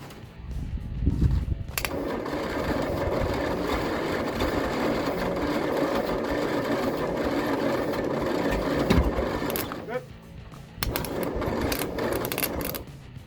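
A Leyland COE truck engine with its valves stuck up and only two spark plugs refitted cranks steadily on the starter for several seconds, a loud, continuous mechanical churning, then pauses briefly before cranking again without catching.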